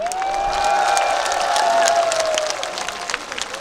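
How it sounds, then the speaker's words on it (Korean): A festival audience at an outdoor MBC music show claps and cheers loudly before the performance begins, sustained applause with scattered whoops, and a sustained tone from the sound system running through the first half before the clapping thins toward the end. "MBC 가요베스트 여러분들의 힘찬 박수로 시작하도록 하겠습니다"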